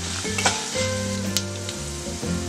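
Tempering spices and asafoetida crackle and sizzle in hot oil for a kothimeera-pudina rasam, a steady close-up frying hiss broken by sharp pops and soft stirring scrapes, with no talking.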